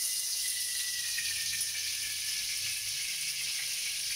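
Cooking oil sizzling steadily in a pan for chicken gizzard bopis, a loud, continuous hiss close up with no pauses.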